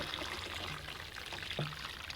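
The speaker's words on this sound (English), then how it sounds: "So the water's dripping down from that layer." Water trickling and dripping down through the layers of an herb planter, a soft continuous close trickle with a few distinct drips.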